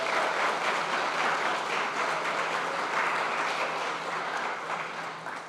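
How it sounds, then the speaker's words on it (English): An audience at a college Space Day event applauds with sustained, dense clapping that holds steady and then begins to fade toward the end. "Please join me in giving her a round of applause"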